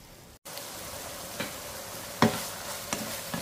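Ground pork sautéing in a pan, heard as a steady close sizzle with a few scraping stirs that come as distinct strokes over the hiss.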